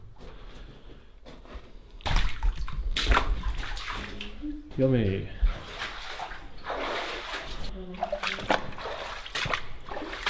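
Water sloshes and splashes as people wade through a flooded abandoned copper mine, the churning steady and close, with voices talking over it.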